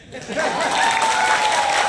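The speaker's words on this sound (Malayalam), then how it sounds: "എന്നിട്ടാണ് ഇങ്ങനെ ഇന്ന് കൈയടിക്കുന്നത്" Audience applause breaks out at a business motivational talk, swelling quickly after a quiet start into a steady, dense patter of clapping that holds at a fairly loud level throughout.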